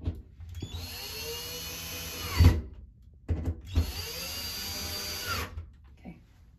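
A power drill whirs in two sustained bursts, each a few seconds long, with clunks as the bit bites while mounting a stainless steel towel bar, close and fairly loud.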